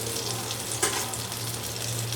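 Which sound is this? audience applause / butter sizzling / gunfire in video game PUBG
butter sizzling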